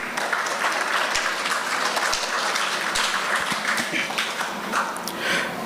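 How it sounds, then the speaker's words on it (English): Audience applause at a Swadeshi cultural competition in Trinidad: a crowd claps steadily and fairly loudly for several seconds, with a few sharper individual claps standing out. "Give yourself a round of applause."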